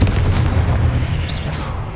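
Confringo, the explosive fire spell from Hogwarts Legacy, lands as a loud, close boom with a deep rumbling tail that fades over about two seconds.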